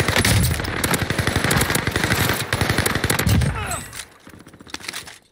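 Rapid full-auto bursts from a Marco 5 submachine gun fitted with a movement barrel in Warzone, crackling close and loud in repeated strings with short pauses, fading to quieter shots near the end.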